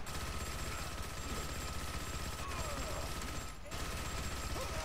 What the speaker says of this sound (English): I'm shooting you in your ass.